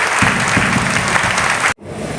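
Applause from a congregation at an Apostolic Faith church celebration, loud sustained clapping from a crowd that cuts off abruptly, followed by a quieter room.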